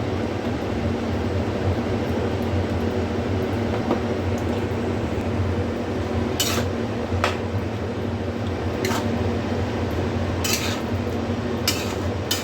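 Soybean chow mein with a spoonful of flour is stirred in a pan (kadai), giving a soft, continuous scraping and shuffling with several sharp metallic clicks of the spoon against the pan, fairly quiet and without talk.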